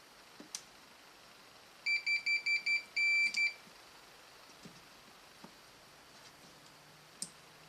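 A multimeter's continuity beep sounds five times in quick succession, then once more longer, with faint clicks scattered before and after in a quiet room, while testing a 2011 Harley-Davidson FXDC brake light.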